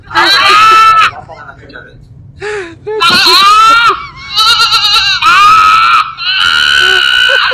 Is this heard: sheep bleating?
yes